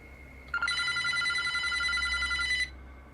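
A telephone bell rings in one sustained electronic trill for about two seconds, clear and moderately loud against a quiet background, then cuts off.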